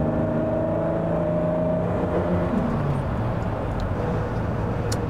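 Aston Martin DB6 Mk2, unrestored with a manual gearbox, pressing through a sweeping bend: a steady engine drone with harmonic tones that shift and drop midway, a dense road and wind roar throughout, no voices.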